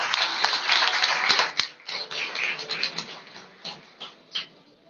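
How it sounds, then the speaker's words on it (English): Audience at a national moot court competition applauding the participating teams, a dense burst of clapping that thins into scattered claps as it fades. "Please give them a big round of applause"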